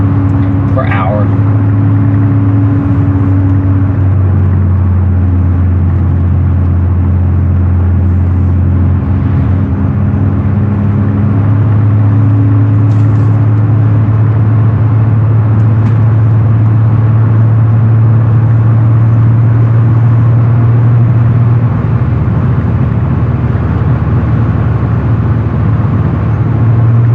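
A 1987 Mercedes-Benz 300E W124 cruises at about 55 mph (80 km/h), its engine and road noise forming a loud, steady drone inside the cabin that holds evenly throughout.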